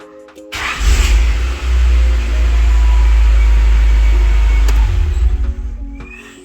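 A Honda Accord Coupe engine with a repaired pump relay cranks briefly and catches, then runs loudly and steadily at a strong idle for several seconds before dropping off.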